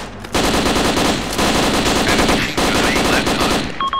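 Enemy machine gun fire in the military video game ARMA 2 during a Black Hawk insertion: sustained, loud automatic bursts rattling steadily for about four seconds, pausing briefly twice, with no speech.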